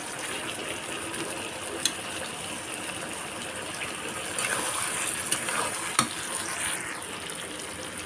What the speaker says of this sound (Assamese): এয়া প্ৰায় ভজা হৈ গৈছে আৰু অকণমান 2 মিনিটমান ভাজি লওঁ।